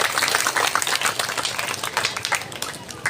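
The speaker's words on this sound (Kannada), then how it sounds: "ಇದನ್ನು ಉಪಸ್ಥಿತಿ ಮಾಡಿಕೊಟ್ಟಂಥ ನಮ್ಮ ಶಾಸಕರಿಗೆ ಒಂದು ಜೋರಾದ ಚಪ್ಪಾಳೆ ಎಲ್ಲರಿಂದ ಬರಲೇಬೇಕು" A crowd applauds the local MLA at a shop inauguration in Yadalam Nagar, Bengaluru South, with dense, steady clapping that stays loud for the whole stretch and mixes with scattered voices.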